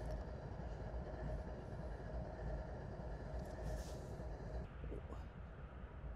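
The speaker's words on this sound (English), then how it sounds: "we've caught up with our grain train here, and he'll be going on north here shortly" A grain freight train rolls past at Nortonville, Kentucky with a continuous loud rumble and rattle of cars, steady throughout and close by.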